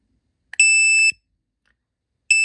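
A Pidzoom finger-controlled horn button for FH60 and FH90 horns gives a loud, piercing electronic beep in pairing mode: one sustained half-second tone, a pause, then a second tone starting, with no talk over it.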